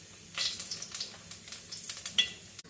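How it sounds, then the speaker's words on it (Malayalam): Ginger and garlic go into hot oil just after the mustard seeds pop, a quiet, close sizzle with quick crackling pops that grows busier over a few seconds. "കടുക് പൊട്ടിയ ഉടനെ ഇഞ്ചി വെളുത്തുള്ളി ഇട്ട് കൊടുക്കും"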